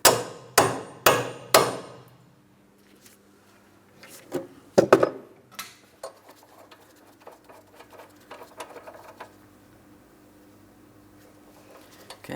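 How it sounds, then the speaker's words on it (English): A hammer taps a bolt into a rear forward lateral link on a 2004-2008 Pontiac Grand Prix, giving four sharp, ringing metallic strikes in quick succession. Lighter knocks and clatter follow. "Couple taps with a hammer."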